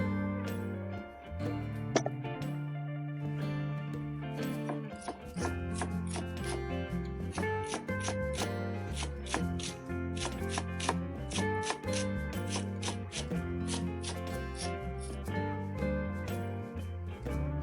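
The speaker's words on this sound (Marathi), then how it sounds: "आता हा कांदा ना आपल्याला एकदम बारीक कापून घ्यायचा आहे" An onion being finely chopped for a kaleji fry gives quick, rhythmic knife taps on a board, fairly faint beneath background music.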